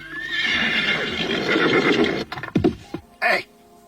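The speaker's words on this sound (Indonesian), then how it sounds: "Saat berikutnya nampak seorang penunggang kuda datang menghampirinya." A horse carrying a rider comes closer and gives a long loud whinny. Sharp hoof clops and snorts follow, with nobody speaking.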